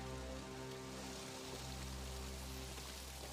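Steady rain hisses across the whole spectrum, a dense continuous patter with a low rumble underneath, no voices.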